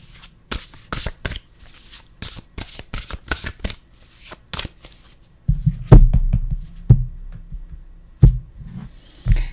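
A deck of animal oracle cards is shuffled by hand with repeated crisp riffling flicks, then softer bumps and taps as the cards are handled, close and alone without talk.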